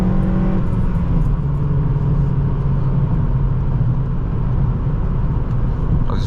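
A ninth-generation Honda Civic Si engine runs at a loud, steady drone with a deep, constant hum, heard up close and nearly uninterrupted for several seconds.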